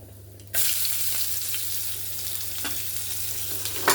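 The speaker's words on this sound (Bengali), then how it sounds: "পেঁয়াজটা ভেজে নেব।" Loud, steady sizzling of chopped onion frying in hot oil, starting abruptly and continuing with occasional stirring scrapes.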